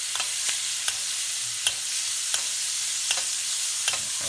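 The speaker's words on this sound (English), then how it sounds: "Now we're gonna go ahead and baste that steak." A steak sears in a hot pan with butter, giving a steady loud hissing sizzle, while a spoon scrapes and taps the pan every half second or so as the steak is basted. No one speaks.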